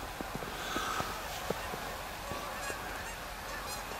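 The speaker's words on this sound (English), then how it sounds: "Canada geese along the open river crags" Canada geese honk along an open winter river at a mostly frozen confluence, several scattered calls at moderate distance over a constant outdoor hiss.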